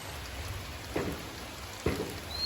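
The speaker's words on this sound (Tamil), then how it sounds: "இப்போ இனி நம்ம வழியில் மழை பெய்யுது" Steady rain falls on a surface during a wet-season day, a soft continuous hiss with two brief louder patters standing out, no voices.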